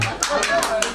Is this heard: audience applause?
yes